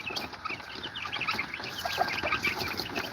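Bantam and broiler chickens cluck and chatter around a feeding bowl, a busy, continuous overlapping flock murmur heard close by without talk.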